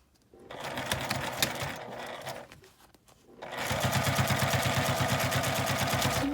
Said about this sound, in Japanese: 折り返して表から端ミシンをかけます